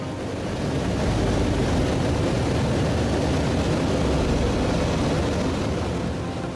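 An aircraft flies over islands, a loud steady engine roar that swells in and holds evenly, alone without voices.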